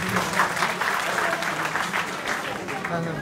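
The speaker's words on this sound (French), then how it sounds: "Sous vos applaudissements, s'il vous plaît." Audience applause for the Prime Minister at a conference at the Chamber of Commerce and Industry in Kayes, a steady, dense clapping that fills the room and holds throughout with no pause.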